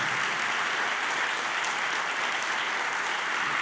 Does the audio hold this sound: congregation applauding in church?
yes